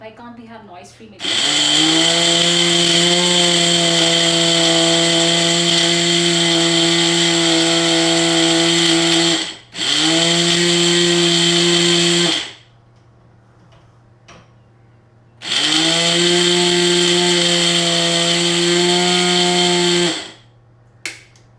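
A loud blender grinding oats whirs in three long bursts separated by short pauses, each run starting abruptly and holding a steady high-pitched grinding whine.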